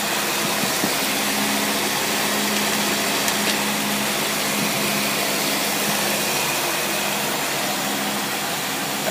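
A small engine fitted with a Holley 7448 two-barrel carburetor runs steadily and loudly throughout, a constant droning hum with no pauses or noticeable revving.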